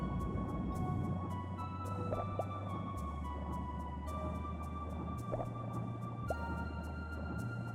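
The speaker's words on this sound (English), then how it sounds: "Dolphin sound?" Dolphin chirps and whistles sound in the underwater game b.l.u.e. Legend of Water, rising squeaky calls over a droning ambient music bed with regular ticking pulses.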